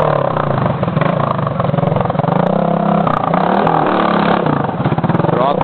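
A motorcycle engine buzzes and revs unevenly as the bike comes closer along a muddy off-road trail. Loud and constant, with no talk over it.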